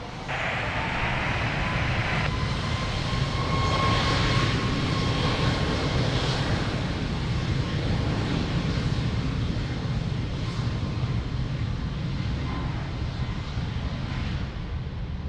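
A jet airliner takes off from runway 02 at Lisbon Airport, its engines producing a loud, steady broadband roar that holds at near-constant strength for the whole stretch, with a faint tonal whine riding above the rumble and no talk.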